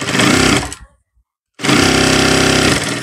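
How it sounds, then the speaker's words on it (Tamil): Sewing machine stitching a chudidhar pant, running in two loud, close, continuous bursts of fast mechanical whirring separated by a short silent pause. "அப்புறம் இதை சேர்த்து இப்போ இதுக்கு தையல் போடணும்."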